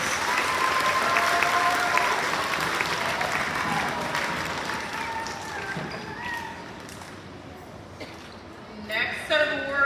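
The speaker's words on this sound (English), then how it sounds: "A big round of applause for our elementary drama students." Audience applause at an awards day ceremony for elementary drama students, a dense wash of clapping that gradually thins and fades, with a few louder scattered claps and some voices near the end.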